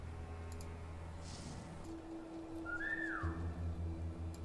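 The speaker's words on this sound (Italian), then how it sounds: "Se fischiamo forse lo attiriamo" A brief rising whistle used to lure an enemy in the video game War Mongrels, faint over a low humming game soundscape with scattered soft clicks.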